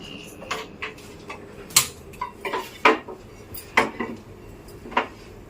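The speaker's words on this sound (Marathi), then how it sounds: "फ्राय करण्यासाठी मी आता तवा ठेवते गॅसवर" Metal kitchenware clinks and knocks near a gas stove while a griddle pan is set down: a string of sharp, close taps and clatters, irregularly spaced, with no talking.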